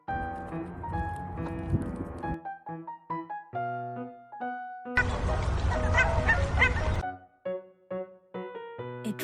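Cartoonish duck quacking sound effect for a children's animal guessing game: honking, nasal calls in short bursts, including a dense stretch of overlapping quacks, loud and close with no talking.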